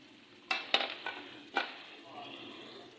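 Chicken korma with turmeric, spices and chopped green chillies stirred in a pan, a few sharp spoon scrapes and clinks over a soft frying sizzle, close and fairly quiet.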